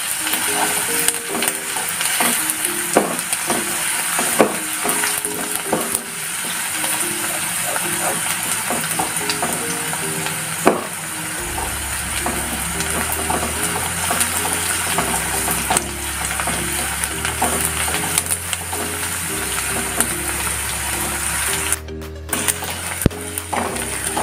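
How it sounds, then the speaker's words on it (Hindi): Onions fry in a pan and are stirred, giving a continuous close sizzle broken by scraping stirs, with a low droning hum in the background for the second half. "प्याज को हमने 2 से 3 मिनट तक फ्राई करेंगे, जैसे उसका जो कलर थोड़ा सा गोल्डन आ जाए।"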